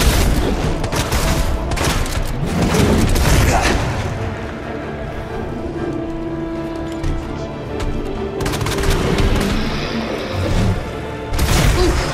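Rapid bursts of gunfire ring out while shooting an enemy in Resident Evil 2 on PS4, loud and dense for the first few seconds, then quieter sporadic shots and game noise before another burst near the end.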